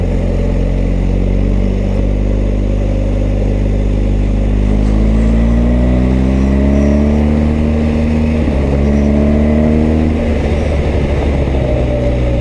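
BMW R1250GS flat-twin motorcycle engine accelerating on a dirt track, a loud continuous drone with pitch rising through the gears, a gear change near the middle and wind rush throughout.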